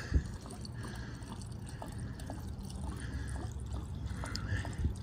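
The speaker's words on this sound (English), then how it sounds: "Put some gas in here. So, there we go. Fill that right up. Glug, glug, glug." Gasoline pours from a gas can into a small tank until it is filled to the top, a soft continuous trickle and glug with faint drips, close and quiet throughout.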